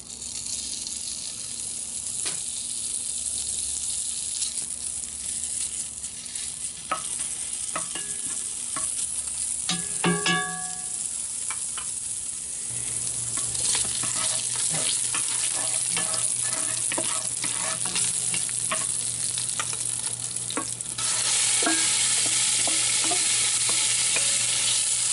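Bacon fries in an oiled Dutch oven with a continuous close sizzle that grows louder and denser partway through, plus scattered pops and a few clanks, without voices.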